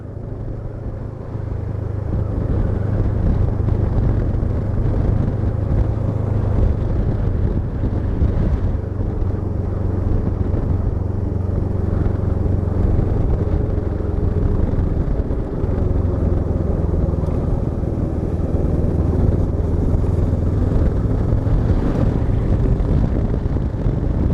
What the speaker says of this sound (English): To me this engine feels really smooth.